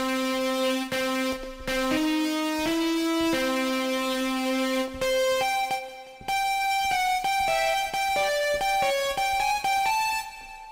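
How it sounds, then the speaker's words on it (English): Guitar Fuzz 2 patch from the Nexus VST playing a slow melodic line of sustained, buzzy fuzz-guitar notes, each held for about a second with brief gaps between them, clear and alone. "there's a guitar sound that I like in here called Guitar Fuzz 2"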